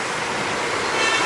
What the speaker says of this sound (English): sorry about the traffic noise